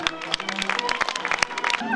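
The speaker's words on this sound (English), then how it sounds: "big round of applause." An audience at a Canadian Days event applauds with scattered, uneven claps mixed with cheering voices, fairly close and moderately loud, with people talking in the crowd.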